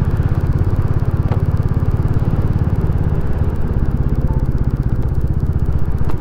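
Royal Enfield Classic 350 motorcycle being ridden, its engine a loud, close, steady drone with an even rhythmic thumping pulse throughout and no talking.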